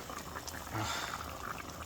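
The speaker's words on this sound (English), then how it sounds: "as soon as it starts boiling, we'll go ahead and check" A pot of chicken tinola comes up to a boil, giving a soft, steady bubbling and simmering that stays quiet and continuous with no talking over it.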